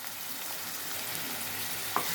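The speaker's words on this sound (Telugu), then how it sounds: "నూనె వేడెక్కింది ఫ్రెండ్స్. ఇప్పుడు ఉల్లిపాయలు వేసేద్దాం." Onions frying in hot oil for a Telugu-style broad bean curry, a steady close hiss of sizzling throughout with a brief clink near the end.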